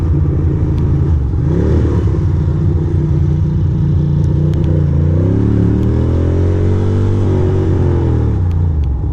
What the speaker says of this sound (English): The backfiring and all sorts of weird popping and dropping and clopping